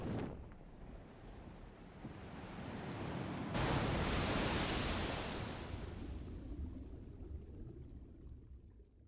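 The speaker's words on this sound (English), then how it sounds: "There's a whooshing noise and then suddenly a splash." In the video game Elden Ring, a broad rushing whoosh swells and then breaks into a heavy splash of water that fades into surf-like noise, loud and without talk.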